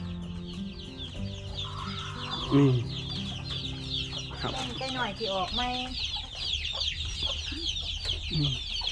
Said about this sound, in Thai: ไก่นี่เป็นไก่บ้านหรือไก่ตีครับพี่